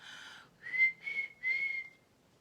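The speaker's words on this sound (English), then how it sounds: "They loved Peter's whistling." A boy whistles a short tune of three clear, sustained notes separated by brief pauses, close and moderately loud.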